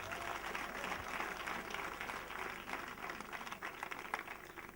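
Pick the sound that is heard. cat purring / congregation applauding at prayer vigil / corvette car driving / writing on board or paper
congregation applauding at prayer vigil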